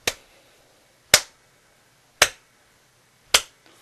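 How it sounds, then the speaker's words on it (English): Four slow, sharp, evenly spaced single claps ring out alone in a quiet room, a sparse golf clap with about a second between each crisp hit. "A fucking golf clap."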